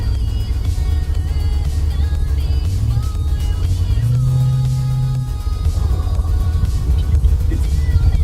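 A 1994 Corvette C4 engine drones steadily from inside the car while driving, loud low rumble with a brief rise in pitch mid-way before settling back down.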